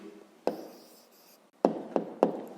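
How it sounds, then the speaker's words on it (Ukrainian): A pen writing out the answer to a school maths exercise: a few short scratchy strokes, one longer fading stroke, then three quick taps of the pen on paper, close and quiet, with no talk. "Записуємо тоді відповідь"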